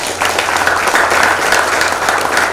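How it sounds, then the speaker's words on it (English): An audience at a university talk event applauding, a dense, even round of many hands clapping together, loud and sustained throughout. "Let's give them a round of applause."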